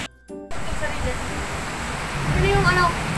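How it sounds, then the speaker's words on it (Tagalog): Heavy rain pouring outside a house, a steady, even hiss that begins abruptly after a brief quiet moment and continues with faint tonal sounds near the end. "Malakas pa yung ulan."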